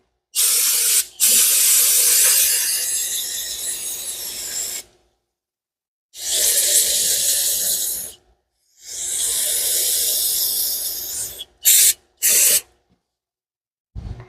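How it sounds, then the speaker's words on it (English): Brake cleaner sprays onto Yamaha IT175K motorcycle engine parts over a parts tray in loud close hissing blasts, a long burst followed by two more sustained sprays and a few short quick squirts with silent gaps between. "Blasting through brake clean."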